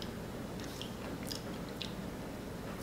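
Biting into and chewing a bitter cannibal tomato, an eggplant-like fruit of a different species from the true tomato, with soft wet mastication and a few faint crunchy bites, close up and without talk.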